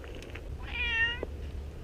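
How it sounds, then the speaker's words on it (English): A cat on the side of a back road gives one short, clear meow close by, with faint outdoor background noise and no talking. "I just found a cat on the side of this back road."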